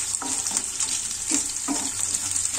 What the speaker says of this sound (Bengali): পেঁয়াজটা খুব ভালো করে ভেজে নিচ্ছি।